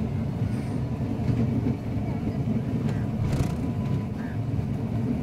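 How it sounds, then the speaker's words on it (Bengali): A toy train ride at Nicco Park rolls past below, giving a steady, moderately distant mechanical rumble that holds for the whole stretch without any clear horn or clatter. "এই যে একটা টয় ট্রেন যাচ্ছে নিচে"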